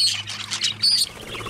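A young pet show bird named Kobe, a 2017 hatchling still growing, gives a quick run of loud, close squawks and chirps in a short burst.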